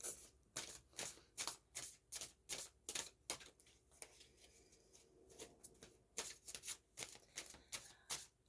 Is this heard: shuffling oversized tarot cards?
yes